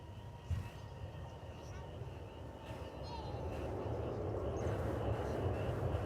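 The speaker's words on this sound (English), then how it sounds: "It's an Airbus A319." An American Airlines Airbus A319 on arrival at Dallas Fort Worth from Morelia, Mexico, its engine roar building steadily from moderate to loud over a low broadband rumble, with voices talking in the background.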